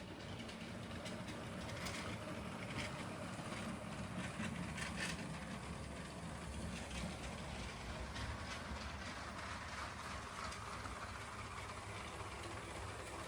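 A LEGO Union Pacific model train with locomotive and B unit runs on an elevated track layout, giving a steady, quiet plastic rumble with faint clicking wheels throughout.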